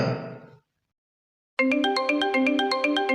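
At a church Christmas stage drama, a voice trails off into silence before a phone ringtone bursts in loudly with a bright, repeating electronic melody of clear tones.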